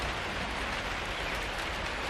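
Steady rain falls outdoors in a green, plant-filled setting, a continuous dense hiss without pauses or voices.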